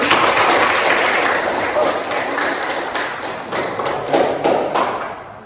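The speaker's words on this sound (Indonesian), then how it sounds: "Tepuk tangan dulu untuk saudara tadi." Students in a school classroom applaud a classmate who presented their group's practical work, giving a loud, dense burst of clapping with a few sharper claps near the end as it gradually tapers off, with voices murmuring underneath.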